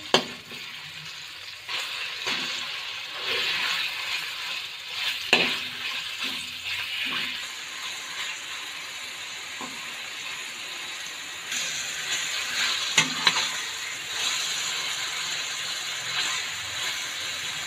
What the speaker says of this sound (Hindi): इतना हमने इसको कुक करना है कि चिकन का कलर चेंज हो जाए